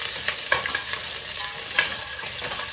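Onions sautéing in a hot pan for chicken pochero, a steady broadband sizzle with occasional stirring scrapes and small pops, close and continuous with no talking.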